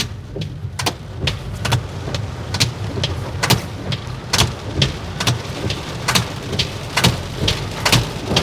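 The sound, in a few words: rain falling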